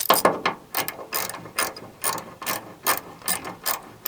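A hand ratchet clicks in quick repeated bursts, close and crisp, while removing the tail light bolts on a 2011–2016 Ford Super Duty, with no talking.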